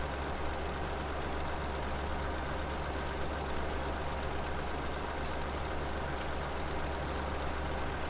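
Tractor in a farming video game, its engine giving a low, steady drone throughout, faint and unchanging with no talk.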